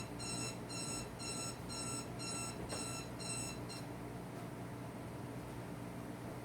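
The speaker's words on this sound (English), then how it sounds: "Oh, god damn it, my alarm." An alarm clock beeps in quick repeating bursts of shrill tones, about eight pulses, then stops, leaving a low steady background hum.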